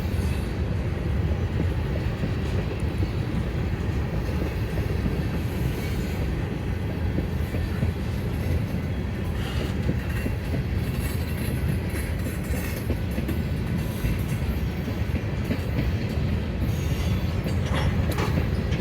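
A Conrail freight train with tank cars rolls past at Woodbury, New Jersey, a continuous loud rumble of wheels and wagons with rhythmic clacking and occasional squeals, steady throughout with no voices.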